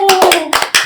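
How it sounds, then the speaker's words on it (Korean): A group claps hands in a short burst of several sharp, irregular claps, loud and close, all within under a second. "우리 영광의 박수. 마지막에 쳐야 되는데 처음에 한번 쳐봤습니다"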